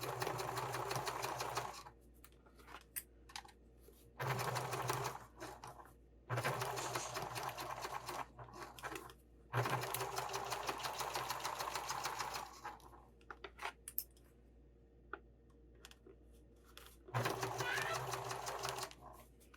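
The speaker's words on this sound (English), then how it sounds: "Hope you can still see me sewing. I'm having to squish down this top layer because my sewing machine wants to be pushing it." A sewing machine stitching a seam on a sling bag, running in several steady mechanical bursts of rapid clatter separated by short pauses, close and fairly loud.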